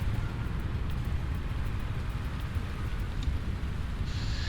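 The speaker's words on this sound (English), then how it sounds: "It's raining." Rain falling in the video game Satisfactory, a dense steady hiss of rain with low rumbling underneath and a faint tone entering near the end, no voices.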